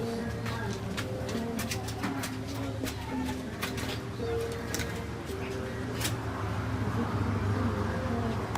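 Pigeons coo softly in low, repeated throaty notes at a snake farm with a poultry section, under steady background hum, faint chirps and some distant voices.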